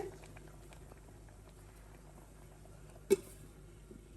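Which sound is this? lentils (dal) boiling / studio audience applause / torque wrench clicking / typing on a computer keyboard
lentils (dal) boiling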